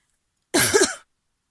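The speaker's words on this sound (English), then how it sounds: "Sorry about the cough." A single harsh cough, close and fairly loud, lasting about half a second before silence returns.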